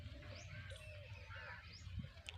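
Small birds such as sparrows chirp and tweet in short scattered calls during a morning grain feeding, set over a steady low rumble of background noise.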